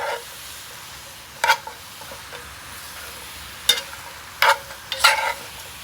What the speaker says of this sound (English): now I'm gonna add in my rutabagas